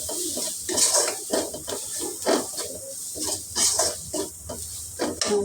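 A spoon scrapes and clinks against a pan as turmeric and chili powder are stirred in, irregular metallic strokes and rattles repeating close up with no talking.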